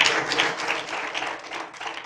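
Audience applause at a public hearing before a hearing officer: a steady wash of clapping from a room of people, moderately loud and fairly even throughout, with no voices rising above it.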